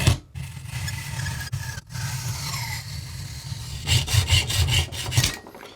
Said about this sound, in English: Now I guess I just get on a hacksaw.